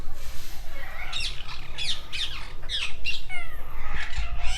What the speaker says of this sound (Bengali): এখানে সবগুলো প্যারট এখানে আছে কিছু লাভ বার্ড মেবি এগুলো লাভ বার্ড